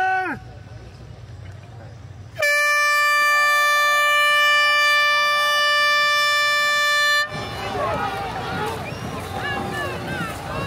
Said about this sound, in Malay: Tunggu bunyi horn dari bus.